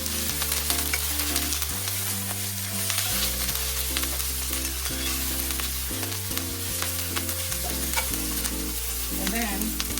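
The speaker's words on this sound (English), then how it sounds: "saute that for about 2 minutes or so" Food sautéing in a pan while making Jamaican steamed fish with okra, a constant close sizzle with light stirring scrapes, heard under steady low background music.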